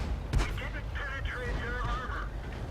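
Tank cannon in World of Tanks firing one sharp, heavy boom early on, followed by a voice and game sounds over a low rumbling engine bed.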